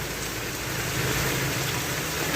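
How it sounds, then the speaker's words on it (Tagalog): Steady rain falls during electrical work in wet weather, a dense even hiss that holds alone and unbroken from start to finish. "tumutulo pa yung tubig, yung ulan"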